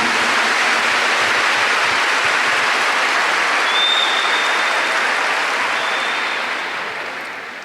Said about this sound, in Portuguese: Give the Lord a big clap for that.